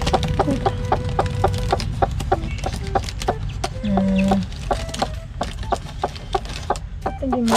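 Small chicks peep in short, high repeated notes among clucking farm fowl, with a duck nearby, steady and fairly close throughout.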